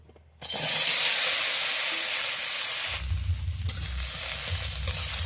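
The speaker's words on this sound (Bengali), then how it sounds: "তেলটা গরম হয়ে গেছে, আমি ভেন্ডিগুলো দিয়ে দেব।" Okra hits hot mustard oil in a wok, setting off a loud, steady sizzle after a brief quiet start, with stirring scrapes and low rumbling bursts joining partway through.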